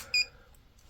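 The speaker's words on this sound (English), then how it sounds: "Now it's just beeping, not vibrating." A KAIWEETS KGP01 pinpointer metal detector gives one short, clear electronic beep close by, with quiet room tone after it.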